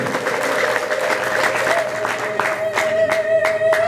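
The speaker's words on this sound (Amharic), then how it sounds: "ለዚህ ጌታ እልልታ ጭብጨባ ታመጣላችሁ" A church congregation applauds steadily, dense clapping from a crowd with a high trilling ululation running through it and some voices mixed in.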